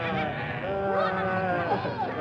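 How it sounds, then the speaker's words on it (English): Sheep bleat several times in quick, wavering calls at a moderate distance, set in the Australian countryside. "Look, Deirdre, there are some sheep"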